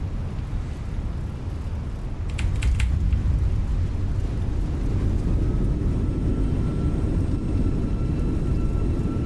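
A Fenix A319 airliner in Microsoft Flight Simulator goes to full reverse thrust while landing at Jersey, a loud, steady low engine roar that swells after a couple of seconds and holds, with a few brief clicks near the start and no talking.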